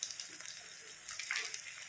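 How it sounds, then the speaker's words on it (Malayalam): Flattened rice (aval) frying in hot oil while being stirred: a soft, steady crackling sizzle with faint scattered pops, fairly quiet and close. "ഇളക്കി ക്രിസ്പി ആകുന്നവരെ ഇളക്കി കൊടുത്ത് വറുത്തെടുക്കും"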